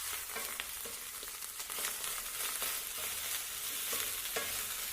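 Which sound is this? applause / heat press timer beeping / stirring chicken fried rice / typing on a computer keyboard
stirring chicken fried rice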